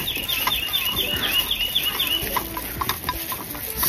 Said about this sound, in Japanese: 鳥も歌ってると。